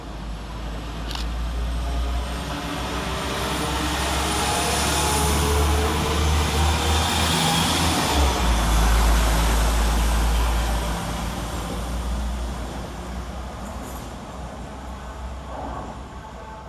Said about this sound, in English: going in the opposite direction is 172-338, working the 11:01 West Midlands Railway service from Kidderminster to Stratford-upon-Avon